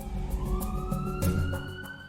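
An ambulance siren sounds on a road, a steady rising electronic wail heard fairly faintly and continuously with no voices over it.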